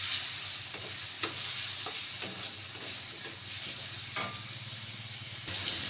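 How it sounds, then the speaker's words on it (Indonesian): Tomatoes sautéing in a pan for yellow noodle soup: a steady loud sizzle with hiss, broken by occasional scraping stirs. "Kemudian tumis tomatnya. Kita oseng-oseng tomat ini sampai dia sedikit keluar sarinya ya."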